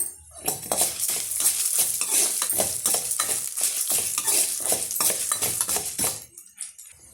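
Cumin, urad dal and dried red chillies roasting in a pan for chutney, stirred briskly with a utensil, giving a rapid run of close scraping, clinking strokes over a light sizzle.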